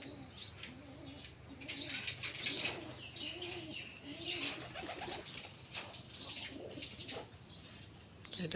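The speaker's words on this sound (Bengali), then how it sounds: "ভালো একটি ব্লাড লাইনের কবুতর" Pigeons on a rooftop loft coo softly and repeatedly, with sharp chirps and bursts of wing flapping coming at intervals. The sound is faint and open-air.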